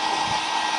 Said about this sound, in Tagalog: May dala-dala blower